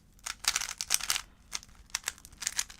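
Keys on a computer keyboard are struck in quick, uneven bursts of sharp clicks during a speedcubing session, loud and close, with short pauses between the clusters and no voices.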